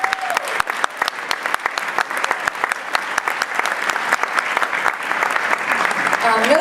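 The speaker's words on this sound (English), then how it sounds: "let's give a round of applause for the greatest teacher of my life" An audience at a high school wind ensemble concert applauding a teacher, with steady dense clapping that holds throughout, fairly close and full, with no talk over it.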